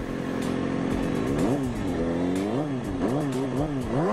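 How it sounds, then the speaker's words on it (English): A motorcycle engine revs hard as the rider pops the clutch for a wheelie, its pitch repeatedly sweeping up and falling back in loud, close bursts. "you're going to be able to hear the RPMs race up as he does"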